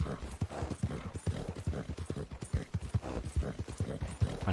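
Horse hooves clip-clopping in Red Dead Redemption 2, a steady rhythmic trotting beat that runs throughout at moderate loudness.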